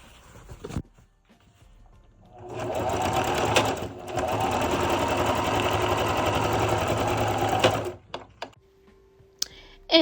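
A sewing machine stitches a zipper onto old blue denim jeans, running in a steady, close, mechanical whir for about five seconds, with brief pauses and small handling clicks before and after.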